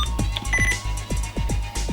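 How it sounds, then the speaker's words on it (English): Error beeps from a RadioShack PRO-136 radio scanner, a string of short sharp electronic tones repeating at a quick, uneven rhythm, close and fairly loud over a faint electrical hum. "the error beep, yeah. I was actually trying to show that off."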